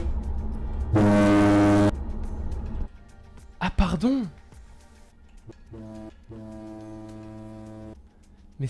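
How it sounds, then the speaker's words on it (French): A boat horn in the farming game Farming Simulator 19 sounds one loud, steady, deep blast lasting about a second. Softer mechanical tones and a brief voice follow. "Attends, le klaxon."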